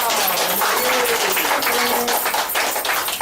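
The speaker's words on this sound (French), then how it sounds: "On applaudit pour elle." Crowd applause at a wedding for the bride, a steady dense wash of clapping filling the whole moment, with faint voices mixed underneath.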